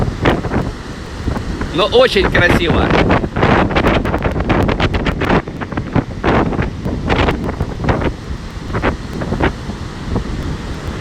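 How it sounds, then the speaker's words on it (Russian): Stormy wind buffeting the microphone with sea waves surging along the central seafront in Sochi, a loud, gusty roar with repeated surf crashes while a person talks over it. "в Сочи сегодня шторм, ветер и дождь"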